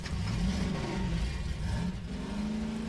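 A car engine in the Garry's Mod video game, freshly repaired, runs and revs steadily with a loud low rumble throughout, no talking.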